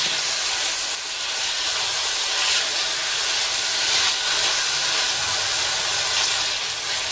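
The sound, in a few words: meat and spices sizzling while being fried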